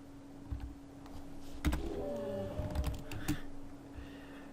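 Typing on a computer keyboard in bursts of clicks and key taps over a steady low hum and background game sound, fairly close and moderately loud, with no one talking.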